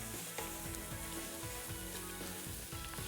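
Red claw crayfish with chilli and garlic sizzle steadily in a hot pan, a constant close frying hiss with small crackles and pops throughout and no voices.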